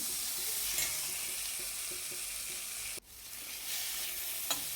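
Tomatoes sizzling and frying in a pan with curry leaves for a Maharashtrian green bean bhaji, with a steady broadband hiss, occasional stirring scrapes, and a brief pause midway before the sizzle resumes; no talking.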